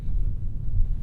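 Low, throaty rumble from the exhaust of a 2022 Audi SQ7 idling or cruising, a steady deep drone heard from inside the cabin, moderately loud with no voices over it.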